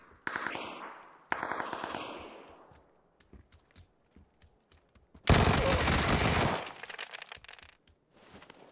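Automatic gunfire in PUBG, several short bursts of rapid shots with quieter gaps and scattered single pops, ending in one long loud burst, heard alone.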